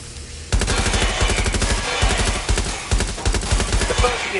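Rapid automatic gunfire from a firefight in the Watch Dogs Legion video game, loud sustained bursts of shots starting abruptly and continuing almost without pause.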